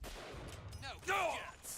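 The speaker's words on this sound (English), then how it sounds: "Don't stop shooting!" Gunfire in the BioShock Infinite video game: bursts of shots with a shouting voice over the middle of the combat.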